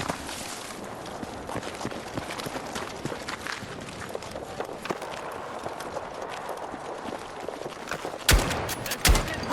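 Shotgun blasts in the Battlefield 6 campaign, two sharp loud shots near the end following a stretch of busy battlefield noise and footsteps.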